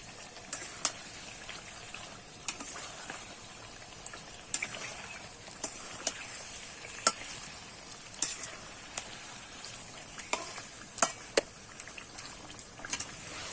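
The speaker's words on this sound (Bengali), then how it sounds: "দিয়ে আমি ভালো করে কিন্তু কষিয়ে নেব পটলের সঙ্গে মশলাটা" Fried pointed gourd being stir-fried with spice paste in oil, a soft low sizzle punctuated by frequent sharp spatula taps and scrapes against the pan, close and fairly quiet, no talk.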